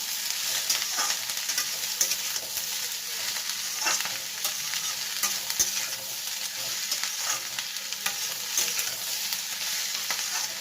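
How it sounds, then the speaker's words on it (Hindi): Fried egg stirred into noodles in a hot pan, a continuous close sizzle with frequent small scraping clicks throughout. "इसमें अब हम डालेंगे हमारी जो एग फ्राई करके रखा हमने, वो भी इसको मिला लेते हैं।"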